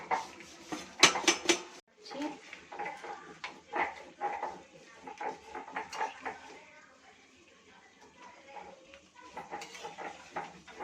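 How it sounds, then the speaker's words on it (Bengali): Goat meat is stirred in a metal cooking pot, starting with a cluster of loud clanks and scrapes, then settling into irregular softer scraping and knocking of the spoon against the pot. "খাসির মাংসটা নাড়ছি। মাংসটা নাড়বো।"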